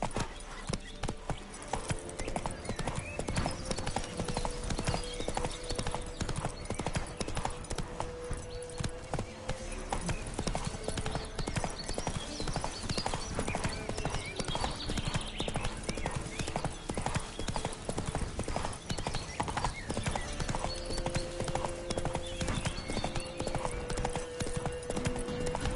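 Roach, a horse in the video game The Witcher 3, gallops in a fast, even hoofbeat rhythm that runs without a break. A whinny comes through once.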